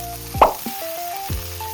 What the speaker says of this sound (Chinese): 反正就是2面都给它煎的那种焦焦褐褐